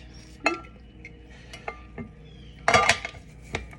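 Spoon stirring homemade creamer into a cup of protein coffee, a few sharp clinks against the cup with a louder clattering burst near the end, close and fairly quiet with no talking.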